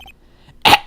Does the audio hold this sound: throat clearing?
yes